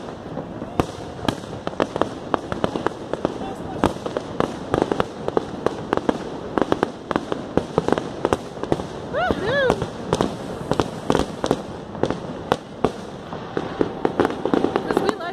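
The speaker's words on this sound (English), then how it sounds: "Because we like fireworks in Canada." Fireworks burst over Niagara Falls, Canada, as a rapid, irregular string of sharp cracks and booms. Some loud and close, others lighter, they continue the whole time over a background of crowd murmur.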